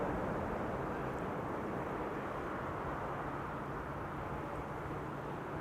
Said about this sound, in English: Vietnam Airlines Flight 83, arriving from Hanoi. That's an A350